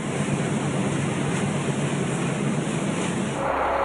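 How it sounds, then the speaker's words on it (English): Colorado floodwaters churn and bubble over the windshield of a fire truck, heard from inside the cab as a loud, unbroken rushing roar of water with no voices. "from inside this fire truck, the floodwaters bubbling over the windshield"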